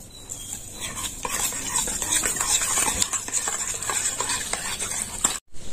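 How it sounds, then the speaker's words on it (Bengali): Yogurt being whisked in a bowl for khatta aloo: brisk, steady scraping and clinking strokes, close and fairly loud, continuing for several seconds before a brief pause. "এবার দইটা ফেটিয়ে নেব"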